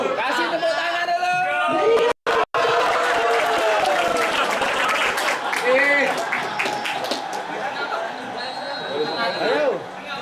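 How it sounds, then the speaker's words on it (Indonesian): Applause and cheering from a lively crowd at an e-sports athlete selection event for the Porprov XV South Sumatra 2025 games, loud dense clapping mixed with chatter, whoops and nearby voices, with a brief dropout early on. "Kasih tepuk tangan dulu."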